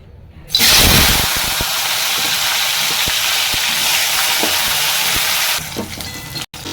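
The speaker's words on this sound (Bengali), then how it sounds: "এবার আমি কপিগুলোকে ভেজে নিচ্ছি" Loud, steady sizzling of cauliflower frying in hot mustard oil begins abruptly and continues evenly for several seconds before suddenly dropping away.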